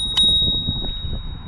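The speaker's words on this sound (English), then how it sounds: "We've got a bell" A single sharp ding from the bell on an Estarli e20.7 folding electric bike rings close and clear, its bright tone sustaining under low handling rustles.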